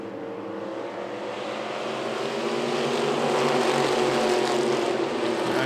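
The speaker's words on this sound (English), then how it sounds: "Hardcore racing going on." Race cars roar past at speed on the back stretch of Myrtle Beach Speedway, a loud, sustained engine drone that builds steadily and stays dense throughout, with no talk over it.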